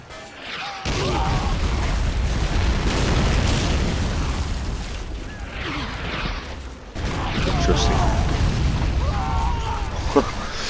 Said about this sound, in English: That's a nasty explosion.